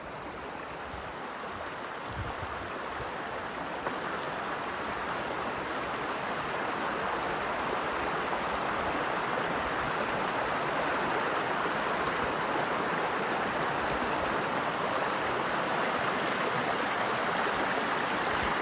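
A woodland river and brook flow steadily, a dense continuous rush of water that stays loud and even throughout, with no voices.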